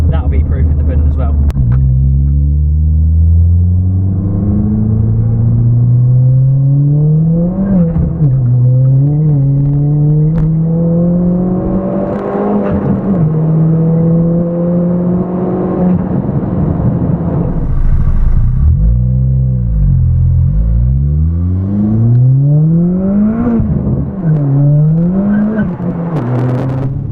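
A Ford Fiesta ST with a Stage 4 Revo turbo tune revving as it drives, the engine note rising and falling through repeated gear changes, loud and close from inside the car, with someone talking over it.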